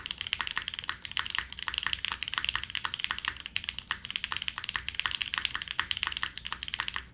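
Rapid typing on the Albatross mechanical keyboard, with close, crisp clacky keystrokes in a busy, uneven rhythm and no voices.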